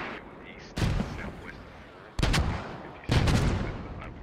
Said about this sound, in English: That is a barrage.